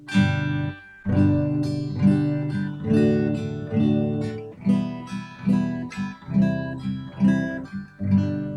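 Acoustic guitar chords strummed in a steady rhythm, thumb down and index finger up, each stroke ringing out with harmonic sustain, played up close with no voices.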